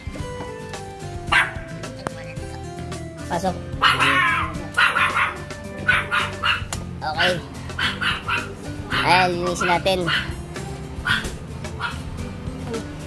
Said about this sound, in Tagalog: may maliit na aso pala.